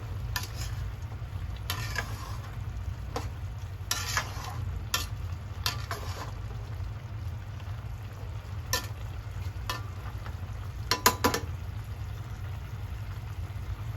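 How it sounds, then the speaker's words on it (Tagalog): Chicken adobo with eggs being stirred in a frying pan, soft sizzle over a low steady hum, broken by repeated sharp scrapes and clinks of the utensil against the pan. "Halo lang po ulit."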